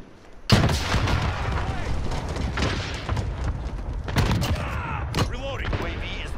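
An allied cluster strike in a shooter video game lands as a sudden loud burst of rumbling explosions and rapid gunfire that keep rolling through the clip, with a voice heard over the din.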